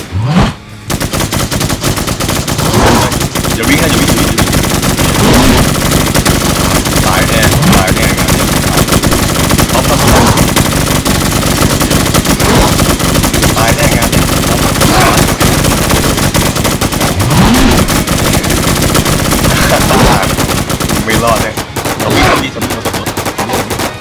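Dense, relentless gunfire while shooting zombies in the online survival game Infestation, with overlapping automatic bursts and single shots that stay loud and continuous for the whole stretch.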